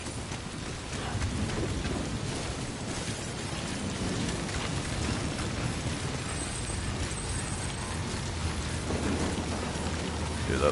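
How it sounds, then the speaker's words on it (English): Rainstorm rolling in within Death Stranding: continuous rain hiss with low thunder-like rumbles underneath, sustained and fairly loud throughout, with a faint tonal hum appearing near the end. "Oh, there's a storm forming overhead."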